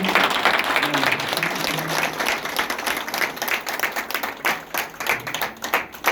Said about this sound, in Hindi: तो जबरदस्त ताली हो जाए फिर से सर के लिए।